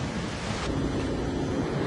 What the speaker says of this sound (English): we're going to have a little wind to deal with, it looks like